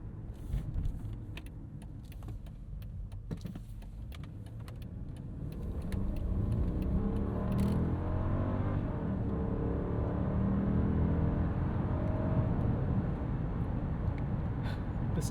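Steady low road and engine hum inside a 2002 Mercedes-Benz S430 with the M113 engine and five-speed automatic while driving, quiet and smooth, swelling slightly midway, with faint ticks and rattles at first.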